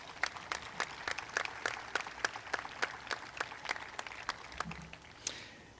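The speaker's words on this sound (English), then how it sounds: "Let's give these families a round of applause," Audience applauding graduates' families at a Valley High School commencement ceremony, with steady, evenly spaced claps that sound like a modest crowd or a few close hands, sustained for several seconds without speech.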